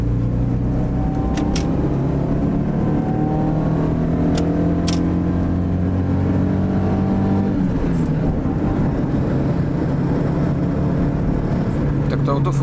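A Subaru Impreza's engine climbs steadily in pitch as the car accelerates to overtake, heard close from inside the cabin, then the note shifts and settles while someone talks over the rumble.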